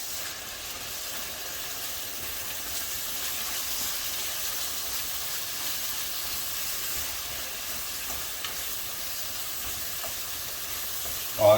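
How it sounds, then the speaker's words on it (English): Ground beef browning for chili sizzles steadily in the pot as spices and garlic are stirred in, a soft continuous frying hiss with faint scraping underneath and a brief knock at the very end. "So we'll get this stirred."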